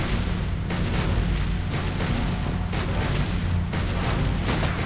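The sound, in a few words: gunshots fired at marble Abe Lincoln in Sam & Max video game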